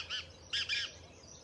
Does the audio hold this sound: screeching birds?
yes